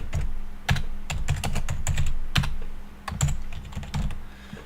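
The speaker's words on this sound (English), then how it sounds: "Click anywhere and start typing." Close-up typing on a computer keyboard, irregular bursts of clicking keystrokes with short pauses, alone without talk.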